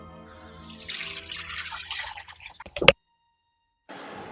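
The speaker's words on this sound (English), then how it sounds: "we want to drain this off now. But actually, because I've got the cheesecloth there, I may as well just run this through." Whey pouring off stirred cheddar curds through cheesecloth, a steady splashing, running stream of liquid close by that ends abruptly with a drip, followed by a brief pause and a softer trickle.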